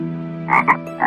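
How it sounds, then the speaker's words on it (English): Frogs croaking in a garden, a loud close series of rasping croaks over a steady low trilling chorus, with a few distinct bursts in about a second. "There were two frogs in the near about garden"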